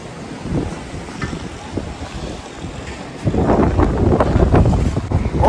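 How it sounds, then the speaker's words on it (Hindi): Strong wind from a thunderstorm in Karachi roars against the microphone in heavy gusts, building louder partway through, with no voices. "दोस्तों बहुत तेज़ हवा शुरू हो चुकी है"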